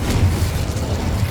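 A Confringo spell explosion in the game Hogwarts Legacy, a short, loud booming burst with heavy low rumble, heard alone.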